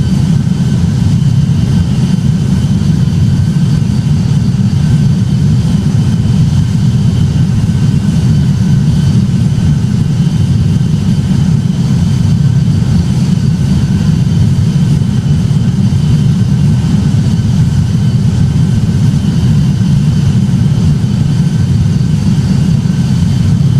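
Airliner engines spool up and roar through a takeoff roll in the Roblox game Project Flight, a loud, steady, dense low rumble with a hiss on top that holds without a break, with no talking.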